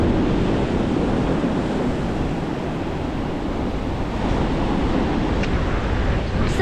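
Ocean surf at Back Beach in Vung Tau, Vietnam, a continuous loud wash of breaking waves with wind buffeting the microphone, steady throughout and without voices.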